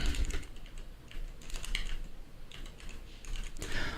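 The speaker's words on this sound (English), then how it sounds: "I'm typing this in the chat now" Quick, irregular clicking of fingers typing on a computer keyboard during a live online interview, with bursts of keystrokes separated by short pauses, close and moderately loud, with no one talking.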